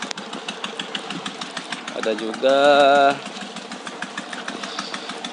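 A mining machine engine under repair runs at a steady idle, a low tonal hum that swells briefly louder for under a second before settling, under continuous talk from a nearby man.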